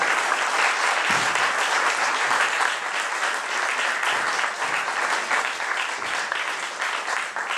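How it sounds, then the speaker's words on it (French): A conference audience applauds steadily and warmly, dense clapping held at an even level from start to finish with no pauses. "Je vous demande de l'applaudir à nouveau très chaleureusement"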